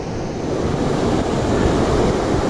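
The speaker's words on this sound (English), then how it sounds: "This is the Jacks River." The Jacks River rushes loudly the day after a flash flood, a steady, dense roar of fast-moving water close by with no pauses and no voices.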